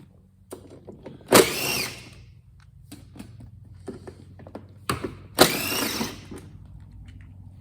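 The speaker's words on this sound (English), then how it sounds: "Get my Torx gun out, pop all these 4 screws out." A cordless Torx driver backs screws out of a Ryobi 48V ZT480ex mower gauge housing, two loud whirring bursts a few seconds apart with quieter handling clicks between them.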